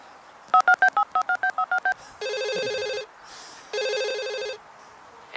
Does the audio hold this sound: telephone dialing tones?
yes